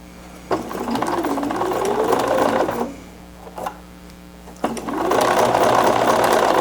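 Stitching through soft, drapey crepe fabric for a bias-cut dress, a sewing machine whirs in two loud runs separated by a short pause with a few light clicks.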